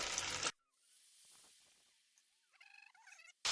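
Cassava chips sizzle and hiss in boiling oil, a steady soft frying hiss with faint crackles, bracketed by brief louder noises at the start and end.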